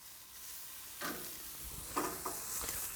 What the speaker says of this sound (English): That means it's starting to caramelize and cook nicely.